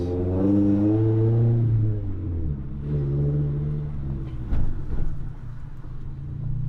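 A Subaru BRZ fitted with a JDL 4-2-1 header revs under load, a loud, steady engine drone that rises and holds in pitch, eases off, then climbs again, heard alone without talk.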